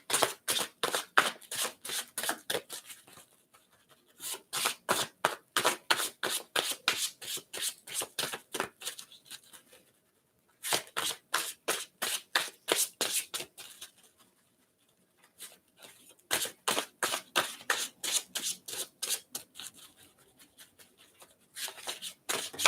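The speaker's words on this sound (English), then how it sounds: "You guys watch me shuffle." Crisp rapid riffling bursts of a card deck being shuffled, repeated in several runs with short pauses between, close and clear with no talking.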